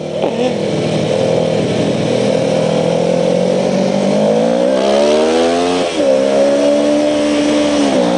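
A car drives close past with its engine loud, revving and climbing in pitch. The tone shifts sharply as it goes by.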